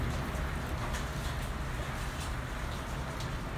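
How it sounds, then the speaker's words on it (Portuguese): Heavy rain pouring steadily with light patter of drops on surfaces and a windy wash, an even, continuous hiss at moderate level, no voices heard. "porque é muita chuva, gente."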